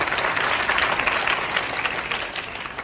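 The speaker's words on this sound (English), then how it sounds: "Loud clap" An audience at a health awareness program breaks into applause, a close, busy burst of many hands clapping that continues steadily throughout.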